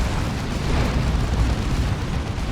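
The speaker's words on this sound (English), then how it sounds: "There's a frenzied barrage again." Loud, dense rumble of a frenzied barrage in the real-time strategy game Dawn of War 2, Chaos Space Marines against Imperial Guard, a continuous roar of overlapping explosions with no pauses and no talk.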